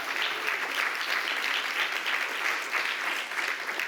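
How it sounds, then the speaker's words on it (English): Steady, dense applause from a seated audience at a New York film festival opening night, sustained at even loudness for the whole stretch with no voice on top. "Give them a round of applause."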